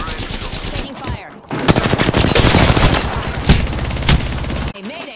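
Rapid automatic gunfire in Apex Legends, loud and close, with sustained bursts of machine-gun shots, sharp single cracks and a brief pause before the firing resumes.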